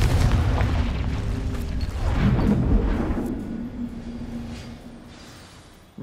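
A Confringo spell blast from the Hogwarts Legacy video game, a heavy booming explosion that rumbles loudly and then slowly fades over several seconds, no speech.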